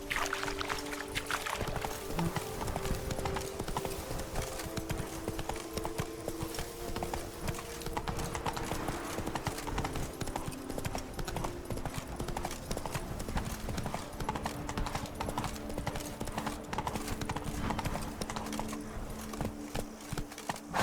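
Horse hooves from the video game The Witcher 3, Geralt's horse Roach, clip-clopping in a steady continuous rhythm for the whole stretch, with game ambience and a faint snort.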